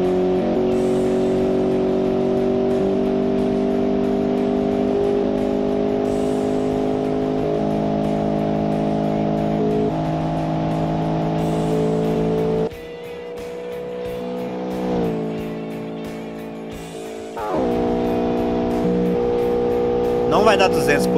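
Car engine held at full speed in the Automation driving game, a loud sustained droning roar with steady harmonic whine, briefly dropping and shifting midway before returning, with someone talking over it.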